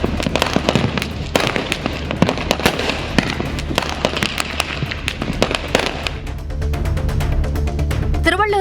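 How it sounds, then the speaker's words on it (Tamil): Dense crackling and popping of Diwali fireworks and firecrackers in Hosur, a continuous loud barrage of sharp bursts with overlapping bangs throughout, a whistling rocket rising near the end. "அதேபோல ஒசூரில் வான வேடிக்கைகள் கண்களை குளிர வைத்தன."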